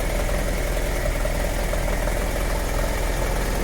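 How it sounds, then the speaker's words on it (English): A BMW F700GS/F800GS motorcycle engine idles roughly and steadily up close, a continuous mechanical drone with faint uneven beats from occasional misfires, no voices. "Maybe you can also hear that there is also some misfires"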